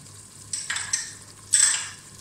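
Mixed vegetables for Kathiyawadi undhiyu, such as yam and carrot, are stirred in a pan: a low steady hiss with a few brief scraping strokes of a utensil, one longer sweep near the end, and no voices.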